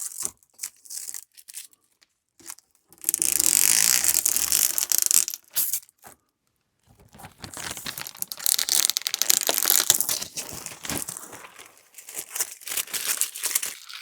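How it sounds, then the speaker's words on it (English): Protective plastic film being peeled and pulled off a new articulating-arm TV mount, giving loud crinkling, tearing bursts in several separate pulls with short pauses, close by and with no voices. "I'm going to go ahead and pull this plastic off"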